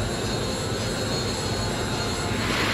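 Harrier jet engine roaring in the Eagle One: Harrier Attack video game, a steady, loud, broadband whine that holds constant throughout with no talking.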